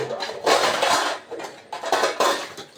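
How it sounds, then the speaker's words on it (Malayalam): Metal pots and pans clatter and scrape in a few close, uneven bursts, with no talking. "കണ്ട പാത്രങ്ങളുടെ സൗണ്ട് വരും."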